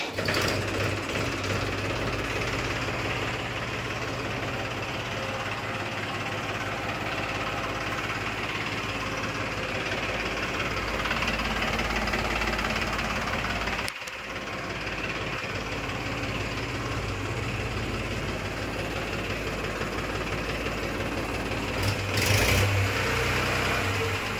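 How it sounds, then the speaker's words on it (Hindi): A Massey Ferguson tractor's diesel engine idles steadily with a rough, knocking chug, loud and close throughout, briefly dipping before settling back into its rhythm. "इंजन बढ़िया आवाज़ निकाल रहा धुआं नहीं है"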